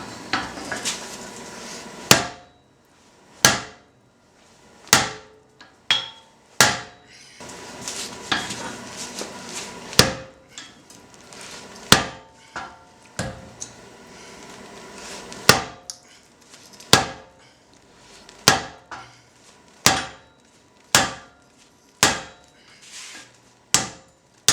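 A seven-pound sledgehammer pounds a corner into a metal piece, about a dozen sharp ringing strikes spaced irregularly over a steady background hiss, each blow loud and close with a brief metallic decay.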